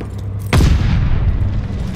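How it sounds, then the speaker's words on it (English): A glide bomb explodes in Call of Duty: Vanguard, a single deep booming blast that hits suddenly and rumbles away over a second or so, loud and alone. "Enemy glide bomb incoming"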